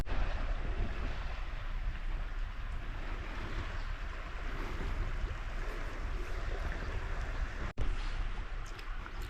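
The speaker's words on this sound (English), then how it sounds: "All you can hear is the small little waves lapping." Soft, continuous washing of small waves lapping at a shore, a gentle watery hiss with breezy background noise and one brief dropout.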